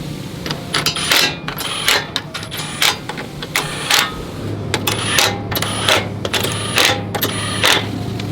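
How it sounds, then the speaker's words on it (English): Impact wrench running down bolts on a bull bar for an Ineos Grenadier or Quartermaster, set to its lowest setting, firing in repeated short rattling bursts close by over a steady low hum. "If you're doing this with an impact like I am, I like to set mine onto the lowest setting and just get them kind of close."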